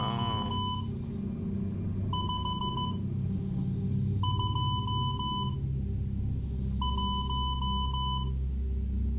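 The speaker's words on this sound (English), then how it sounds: "I'm going to send it in Morse code." Three groups of Morse code beeps, steady high electronic tones in short rapid pulses with gaps between the groups, play over a constant low background hum.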